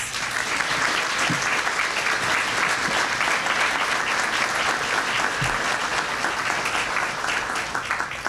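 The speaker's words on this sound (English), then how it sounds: "let's start out by giving them all a tremendous round of applause" A large audience applauds steadily for about eight seconds at a Teacher of the Year ceremony, a dense and continuous wash of many hands clapping, loud and sustained, with no talk over it.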